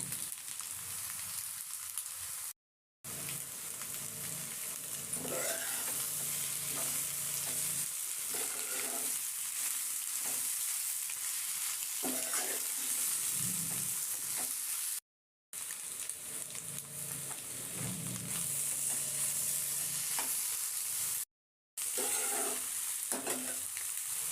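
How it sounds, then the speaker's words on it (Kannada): Shrimp fry in a hot pan for shrimp egg palya, with continuous crackling sizzle and repeated scraping stirs, close and steady, broken by a few brief silent cuts. "ಇವಾಗ ಸಿಗಡಿ ಹಾಕ್ಕೊಳ್ತಾ ಇದ್ದೀನಿ"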